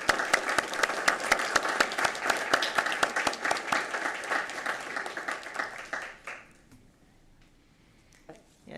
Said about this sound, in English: Let's give all these students a huge round of applause.